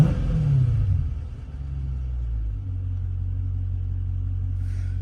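The V8 engine of a Dodge Scat Pack rumbles deep and close, a brief rise in the revs giving way to a steady, heavy idle, with no talking.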